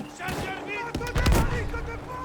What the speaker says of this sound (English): we're under some heavy fire here